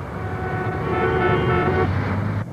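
Dense city traffic in São Paulo rumbles steadily as a car horn blares continuously for about two seconds, loud and close, before cutting off abruptly.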